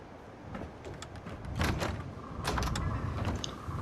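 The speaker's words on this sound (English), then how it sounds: "Close the door." A door closing in Fallout 4 at a settlement on Spectacle Island: a creaking, mechanical slide followed by a couple of louder clunks, moderately close, with no talking.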